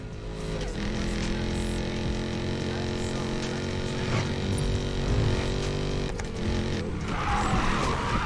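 A car in Need for Speed Payback drones with a loud, steady engine note while tires skid and squeal in bursts. The engine pitch shifts as the car changes speed, with no one talking.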